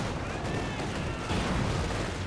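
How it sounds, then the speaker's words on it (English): Dense battle noise from the Company of Heroes 2 video game, with an anti-tank grenade blast amid crackling gunfire and explosions, loud and continuous with a voice faintly underneath. "Contra-rushing ahead, the anti-tank grenade popped away."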